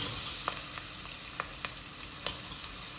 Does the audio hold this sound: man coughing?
no